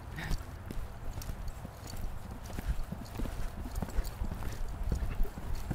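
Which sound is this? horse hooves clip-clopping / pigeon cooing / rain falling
horse hooves clip-clopping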